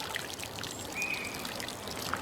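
Water pours steadily onto the soil of a potted tomato plant outdoors, a continuous close trickling stream with faint bird calls in the background.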